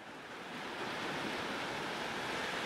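Waves break on the beach at Embo on the east coast of Sutherland in the late afternoon, a broad, steady surf wash mixed with wind, with no talk heard.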